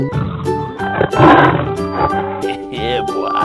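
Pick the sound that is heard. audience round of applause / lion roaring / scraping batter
lion roaring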